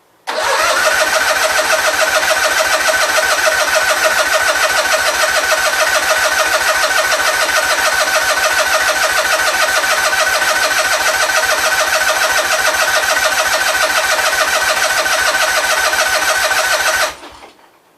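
Gravely 8199KT garden tractor engine cranking on the key with the throttle set at idle, a loud continuous starter churn lasting over fifteen seconds that fails to catch, then stops abruptly.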